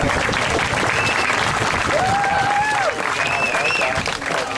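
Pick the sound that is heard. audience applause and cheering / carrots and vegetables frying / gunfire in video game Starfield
audience applause and cheering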